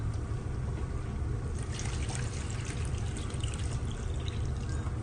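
Water poured into a pan for making suji halwa, a steady close-up trickle that strengthens partway through and continues without pause, with no talking.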